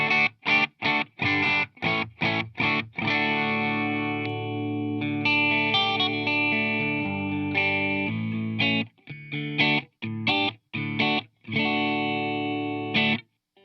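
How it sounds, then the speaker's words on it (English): Clean electric guitar tone through an amp on a Headrush pedalboard rig with other effects switched off, played as chopped rhythmic chords that open into sustained ringing chords and then return to short stabs, loud and close with no talking. "This is what my clean tone sounds like."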